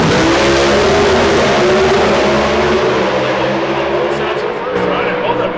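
NHRA drag racing cars blast down the strip with a loud, sustained engine roar that fades slightly toward the end, a commentator talking over the noise.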